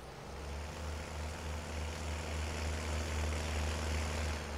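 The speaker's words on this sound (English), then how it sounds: "This engine is actually pretty loud." In Farming Simulator, a vehicle engine drones steadily with a low, constant hum that holds level throughout, without breaks.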